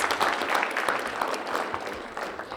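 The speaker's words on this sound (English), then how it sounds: "give him a round of applause" An audience at a public safety town hall meeting claps steadily and densely throughout, a sustained round of applause from a crowd in a hall.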